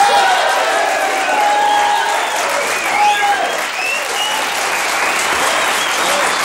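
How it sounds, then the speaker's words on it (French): Audience applause on a French television show greeting its new hostess, loud sustained clapping from a crowd, with a sung or tonal sound running over it. "On applaudit la nouvelle potiche de l'émission."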